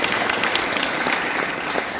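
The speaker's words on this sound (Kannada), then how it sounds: "ಇನ್ನೊಂದು ಸಲ ಜೋರಾದ ಚಪ್ಪಾಳೆ" Loud, dense applause from a large crowd at a village Basava Purana festival gathering, steady clapping that fills the whole short stretch with no voices over it.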